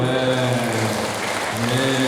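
Applause from an audience at an Isra Miraj religious gathering in Bayat: a steady, dense wash of clapping lasting about two seconds, with a sustained tonal hum or music underneath.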